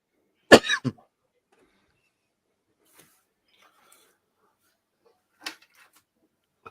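One sharp, close cough with a quick follow-up burst, then near silence with a few faint small noises.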